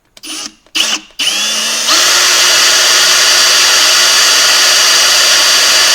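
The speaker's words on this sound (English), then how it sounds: "I'm starting out with a smaller drill bit just to kind of get a pilot hole into this side here" A small drill bit bores a pilot hole into an Icy Dock MB975SP-B drive cage, with a few short trigger bursts first, then a loud, steady, high-pitched whine held close to the microphone.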